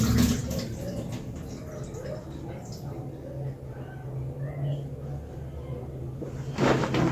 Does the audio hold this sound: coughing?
no